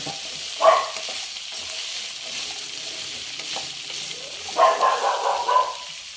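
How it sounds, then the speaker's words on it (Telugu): Okra frying and being stirred in a pan, with soft sizzling throughout and a couple of louder scraping stirs, one near the start and a longer one toward the end. "చక్కగా ఇలా వేగినాయండి"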